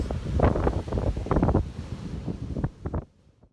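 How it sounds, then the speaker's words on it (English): Wind buffeting a microphone at Pacific Ocean tide pools, with broad rushing gusts and surf wash filling the short stretch before it drops away at the end. "I'm at the Pacific Ocean, looking at some tide pools."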